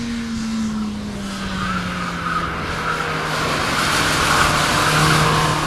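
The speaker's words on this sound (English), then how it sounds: "Matt was eager to shake down the Acura for its first timed run" An Acura race car on a timed run around a racetrack, its engine droning loud and steady with a falling pitch, tires squealing faintly through corners, no voices.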